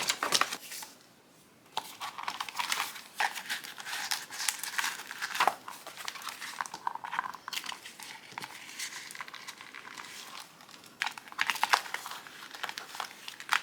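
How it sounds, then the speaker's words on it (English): Paper stickers are peeled and pressed into a traveler's notebook in a steady run of soft crinkles, rustles and small peeling sounds, close and quiet, with brief pauses between handlings. "I am really just putting stickers right now"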